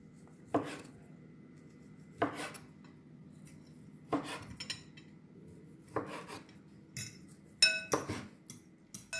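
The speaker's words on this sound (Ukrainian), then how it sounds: "Ковбасу я нарізала і нарізаю болгарський перчик." Knife chopping bell pepper on a board, about six sharp strikes spaced evenly and unhurried, close by, with no talking.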